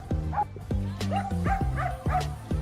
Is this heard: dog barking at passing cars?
yes